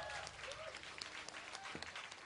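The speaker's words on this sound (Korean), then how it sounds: "어렵게 모셨어요. 박수 한번 주세요." Applause from an audience at a 2013 jam session welcoming a guitarist, faint and fairly distant clapping with some voices and stray sounds mixed in over a short span.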